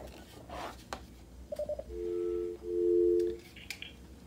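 A VoIP phone auto-dials an all-call overhead page: a few short beeps, then two sustained tones, with faint clicks around them and no talking.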